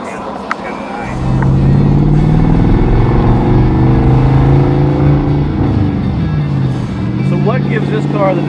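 Custom 1963 Ford Galaxie engine and exhaust starting up and settling into a steady, deep idle rumble, close and loud, with a sharp click just before it catches.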